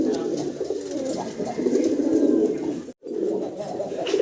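A pair of large Black Bombai fancy pigeons coo steadily and close by, their low rolling calls continuing with barely a pause except for one brief gap near the end.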